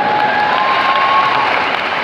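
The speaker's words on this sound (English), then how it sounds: "It's okay to cheer, it's all over now." A commencement audience applauds and cheers continuously at a high school graduation, a dense, steady wash of clapping close and loud with a few whistles mixed in, and no talk over it.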